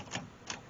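An Olivetti Underwood Model 21 typewriter clacks twice, two crisp keystrikes spaced about a third of a second apart, close and fairly quiet with no talking.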